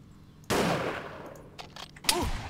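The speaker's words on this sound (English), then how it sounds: "I shot him with my fucking pistol" Pistol shots in the World War II shooter Iron Front for ARMA 3, a few sharp cracks, the first a loud blast with a ringing tail, followed by lighter pops and another close shot, all fairly quiet overall.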